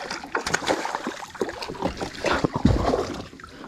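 A freshly caught fish thrashes at the net in deep water, throwing loud, irregular splashes and slaps of water that surge and spray close by for several seconds.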